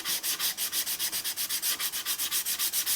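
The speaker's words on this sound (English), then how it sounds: "I'm going to sand this to 240 grit" Steady back-and-forth sanding strokes on the wood of a Telecaster guitar with 240-grit paper, about sixteen even rasping passes close up with no talk.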